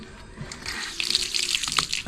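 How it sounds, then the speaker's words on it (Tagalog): Water runs and splashes steadily from a tap or pour, a bright hissing stream with small splashy bursts, close by. "Dagdagan natin ng konting tubig."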